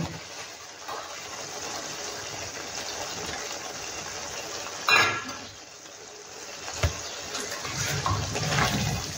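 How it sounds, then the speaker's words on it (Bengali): Bowl-rinsing water is poured into a cooking pan holding two green chillies: a steady, soft watery gush and hiss with a brief louder splash midway and another small splash later. "শুধু বাটি ধোয়া জল দেব।"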